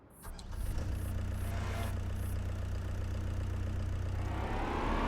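A Kubota compact loader's engine in Farming Simulator 25 turns over and settles into a steady low diesel idle, close and continuous, with a brief rev rising near the end.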